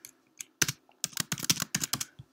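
Code being typed on a computer keyboard while writing a JavaScript sum square difference function: quick bursts of close, crisp key clicks with short pauses between runs.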